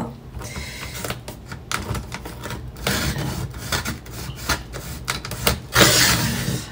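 A dull, worn blade trims paper for a magnetic scrapbook bookmark, giving a close, rough rasping scrape with uneven strokes that grows louder and harsher toward the end.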